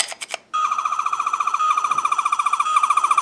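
A Wave 1 Third Doctor sonic screwdriver toy from Doctor Who gives a few quick clicks, then its hidden sound: a loud, rapidly warbling electronic tone, like a siren, pulsing steadily with no voices.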